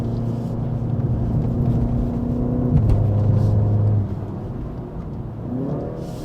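A 2023 BMW 330i LCI engine drones steadily in second gear on a wet, slippery mountain drive at Genting; the tone holds, drops abruptly midway, then settles into a lower hum under road rumble.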